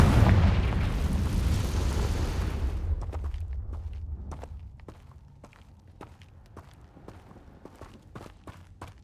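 A Confringo fire spell blasts in Hogwarts Legacy, a loud broad explosion roaring for the first few seconds and fading, followed by scattered footsteps and small crackling pops.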